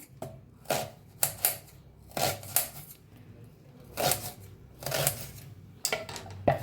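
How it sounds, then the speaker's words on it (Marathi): A hand chopper finely chops onion in a home kitchen for an egg dish, giving irregular, soft, quick chopping bursts close by and fairly quiet. "तर कांदा असा बारीक कापून घ्यायचा आहे चॉपरने।"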